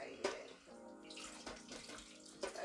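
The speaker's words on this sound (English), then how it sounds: "I wash it thoroughly with normal water" A raw guinea fowl is rinsed under running tap water, with steady close splashing broken by irregular bursts as the bird is handled.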